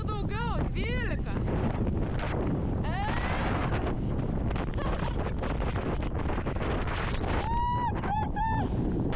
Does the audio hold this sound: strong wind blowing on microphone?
yes